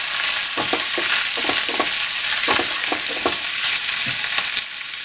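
Onions and ginger slices frying in a pan for paneer jalfrezi, a loud continuous sizzle with rhythmic stirring strokes and light scrapes throughout, close up and without voices.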